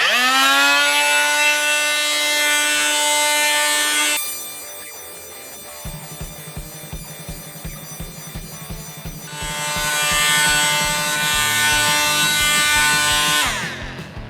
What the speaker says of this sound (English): When you pop a sanding disc on here, removing things like the stain off this board is really easy to do.